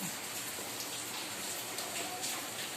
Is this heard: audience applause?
no